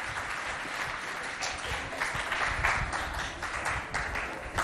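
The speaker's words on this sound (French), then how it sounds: "Applaudissez pour les bonnes questions, les bonnes réponses." Applause from pupils and teachers at a school quiz contest, a faint, distant patter of clapping that carries on steadily for a few seconds.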